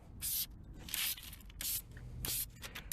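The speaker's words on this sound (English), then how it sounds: "On this, it can easily be sprayed like that." Car detailing product sprayed onto a car part in several short hissing bursts, four distinct spritzes spaced roughly half a second apart, close and fairly loud with quiet gaps between.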